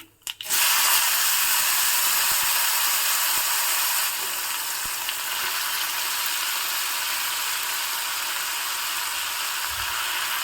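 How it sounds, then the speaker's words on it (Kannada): A sudden loud hiss as raw plantain pieces drop into hot tempering oil, settling into a steady, close sizzle that continues without voices. "ಒಗ್ಗರಣೆ ಹಾಕ್ತಿರೋ ಹಾಗೇ ಇದಕ್ಕೆ ನಾನು ಹೆಚ್ಚಿ ನೀರಿನಲ್ಲಿ ಇಟ್ಕೊಂಡಿರೋ ಬಾಳೆಕಾಯಿ ಹೋಳುಗಳನ್ನು ಹಾಕ್ತಾ ಇದ್ದೀನಿ"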